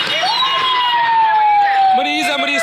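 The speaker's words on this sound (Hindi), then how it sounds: "एम्बुलेंस आ रही है" An ambulance siren wails through Lahore traffic at Bhati Chowk, a loud sustained tone slowly sliding down in pitch amid engine noise, with someone shouting over it.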